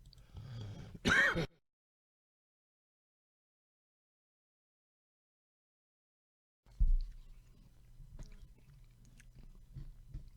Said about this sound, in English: Hang on, I got a cough here.